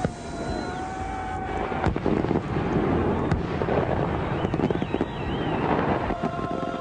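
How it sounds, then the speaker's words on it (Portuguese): Fireworks burst and crackle as a dense, continuous roar of pops and rumbling booms, with no voices and a wind-like wash under the blasts. "Fogos de artifício."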